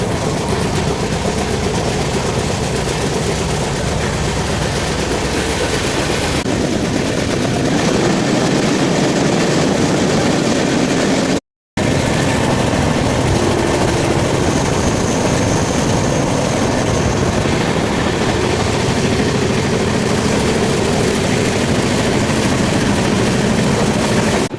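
Intercity Express train 12757 from Secunderabad to Sirpur Kaghaznagar runs fast along the track near Charlapalli, a loud, continuous rumble and rattle of wheels and coaches that briefly drops out partway through.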